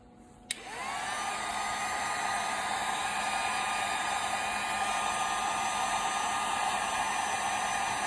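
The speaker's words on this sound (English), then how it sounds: "Just giving these a spritz with the heat gun to help them get dried down." A heat gun switches on with a click and blows a loud, steady, hissing rush of hot air to dry freshly parkerized zinc-phosphate-coated steel bolts, running without a break to the end.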